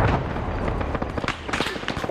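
Rocket launcher fire and surrounding combat in Arma 3 during a night-time compound raid, a jumble of sharp blasts and cracks with a voice talking faintly underneath.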